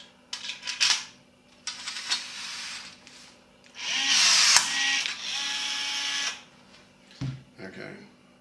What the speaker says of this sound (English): I'm going to pull a couple of rivets with the Milwaukee if it won't jam.